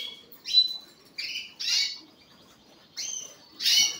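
Several small birds in a home aviary give sharp, bright chirps and squawky calls in short bursts, about six separate calls over a few seconds with quiet gaps between them, close and clear with no talking.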